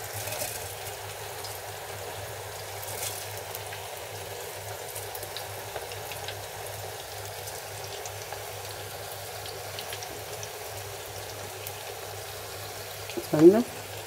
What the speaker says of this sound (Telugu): వావ్, చూడండి నీళ్ళు అయితే మరుగుతున్నాయి